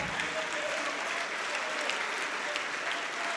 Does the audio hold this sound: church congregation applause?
yes